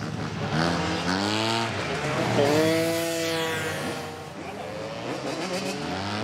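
Loud motorcycle engines revving and whining up and down in pitch during a street motorcycle rodeo in Marseille, sustained and close, with a crowd murmuring faintly underneath.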